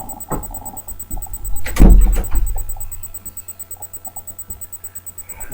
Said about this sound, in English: Right, that's the door sealed